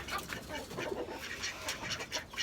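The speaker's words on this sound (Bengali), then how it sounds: "আর এখন এই যে হাঁস মুরগিদেরকে খাবার দিয়ে দিব" Ducks and chickens in a rooftop garden at feeding time, with scattered close clucks and quacks and short calls over a steady murmur, some brief and overlapping, no voices.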